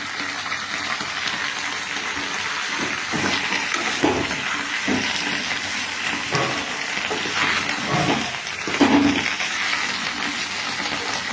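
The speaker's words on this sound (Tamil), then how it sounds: "இப்போ பாருங்கள், தண்ணி ஊற்றுறோம் பாருங்கள்." Water poured into a pot of drumstick leaves, producing a continuous rushing, splashing flow with occasional louder gushes and knocks, close by and sustained throughout.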